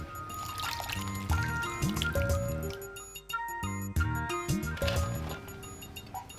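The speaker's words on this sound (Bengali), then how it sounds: "কাটাকুটি শেষে শালগম পানিতে ধুয়ে নিচ্ছে" Cut turnip pieces being washed in a bowl of water, with liquid sloshing, dripping and splashing in bursts over a steady tonal background throughout.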